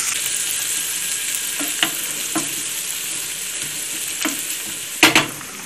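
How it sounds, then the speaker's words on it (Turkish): Onions sizzle steadily in a pan with a bright, continuous hiss, with a few spatula scrapes and a louder clatter near the end. "Burada amaç soğanların güzel bir şekilde tamamen pişmesi."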